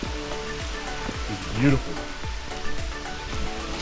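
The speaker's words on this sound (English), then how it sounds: "there's a nice little waterfall down there." A small waterfall in the Mexican jungle at Las Pozas gives off a steady rushing hiss, with a brief spoken remark heard over the flow.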